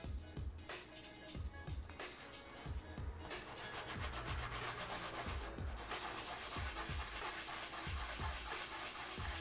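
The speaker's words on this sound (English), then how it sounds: "Okay, and then these I do need to sand flat." Sandpaper rubs cosplay craft pieces flat for a Kujou Sara costume from Genshin Impact, making steady, close back-and-forth scratchy strokes with a regular rhythm and no talking.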